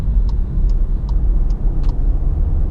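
2019 Volkswagen Jetta SEL Premium accelerating on the road, a steady low engine drone heard from inside the cabin, with a faint regular ticking over it.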